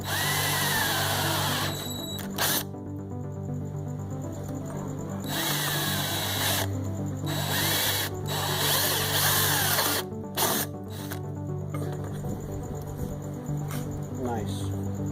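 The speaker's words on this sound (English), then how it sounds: "both of our holes are drilled with a 1/4 inch bit straight through" A power drill boring quarter-inch holes straight through a workpiece, its motor whining steadily and close in several bursts, with a person talking at times over it.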